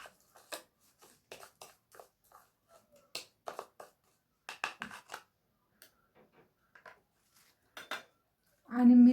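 A spoon stirring a sugar face scrub in a bowl, light scattered clinks and scrapes of metal on the dish in quiet surroundings, ending with a brief louder tone.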